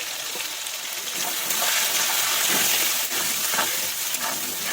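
Potato pieces with salt and turmeric lightly frying in oil while being stirred, a close, steady hissing sizzle with faint scraping throughout, fairly loud and unbroken.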